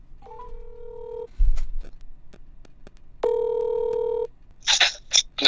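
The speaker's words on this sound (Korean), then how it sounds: "찬우형한테 한번 전화해볼게." A phone dials out for a call: a tone, a soft thump and clicks, then a long ringback tone before a few bursts of higher noise, all fairly loud with no talking.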